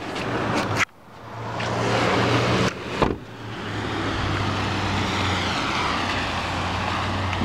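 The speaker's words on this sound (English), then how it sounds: "Dual exhausts on the back." A 2013 Chevrolet Camaro SS rumbles through its dual exhausts, idling and revving with a couple of sharp blips, a steady loud engine drone close by with no talk.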